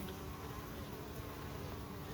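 Honey bees drone in a steady, close, continuous buzz around a busy hive, with no voices.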